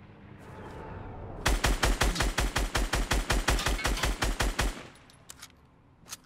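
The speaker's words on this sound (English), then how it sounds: "Somebody's shooting at it." Rapid automatic gunfire from a video game, a loud burst of about twenty evenly spaced shots lasting roughly three seconds, followed by a few faint distant pops.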